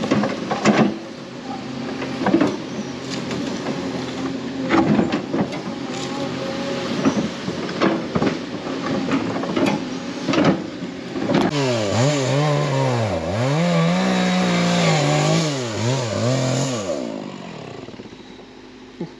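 Husqvarna 330-class chainsaw cutting into a large tree outdoors, a rough idle and sputter with clunks and knocks at first, then the engine revs up into a loud wavering whine under load before cutting off.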